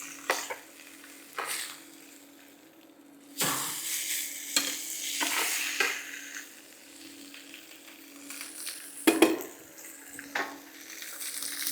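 Steak fries in a hot pan during a cooking master class, a steady sizzle broken by sharp loud bursts as the meat is turned and pressed, with scraping and clinks of utensils.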